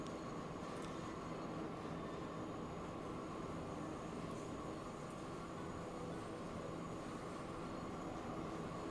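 Steady rumbling rush of a train running in the video game Archipelago, a continuous low roar with a faint metallic hum, even and unbroken for several seconds with no speech.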